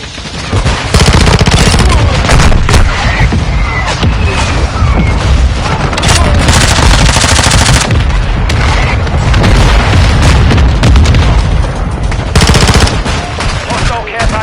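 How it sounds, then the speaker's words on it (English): Mortar strike explosions in Call of Duty Modern Warfare 2 fill the scene with loud, continuous booms and dense gunfire, heavy low rumble throughout with no pause. "Hostile mortar strike in position."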